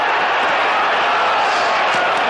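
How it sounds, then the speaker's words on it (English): Boxing arena crowd at the 1976 George Foreman vs Joe Frazier heavyweight rematch, a steady loud roar of cheering and noise filling the hall without pause. "The crowd responding."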